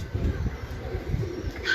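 Racing pigeons coo softly in low, repeated throaty calls at a Lahore pigeon-flying championship, with faint background noise and a brief brighter chirp at the end.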